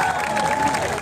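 Brief burst of clapping and cheering from a protest crowd marching to parliament, loud and close, with a voice over the crowd.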